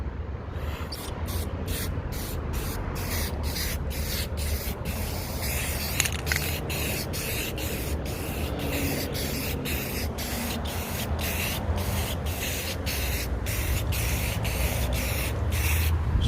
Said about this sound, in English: I'm just gonna gloss it, and how you gloss it the same way as you spray it.